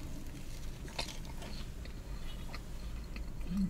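Crunchy Cinnabon mini rolls from Pizza Hut being bitten and chewed close up, soft crackly crunches and mouth sounds at low level over a steady background hum, with no talking.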